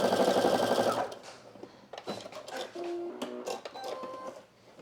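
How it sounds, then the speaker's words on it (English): Sewing machine back stitching the end of a seam on pleated wide-leg pants, a fast loud whirring run for about a second, then short stop-start bursts and clicks as the stitch reverses. "Now that I'm approaching the end, I'm going to back stitch."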